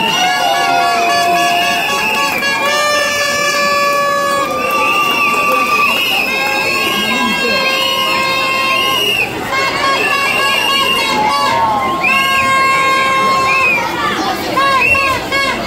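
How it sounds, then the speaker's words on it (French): A crowd of school children cheers and shouts continuously at a school prize-giving and end-of-year closing ceremony, loud and dense throughout, with music and voices mixed in. "On applaudit, on applaudit, on applaudit."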